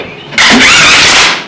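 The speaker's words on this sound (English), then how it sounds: "The engine is idling." An older car engine starts abruptly with a loud crank and catch, then settles into a steady, close idle that fades slightly at the end.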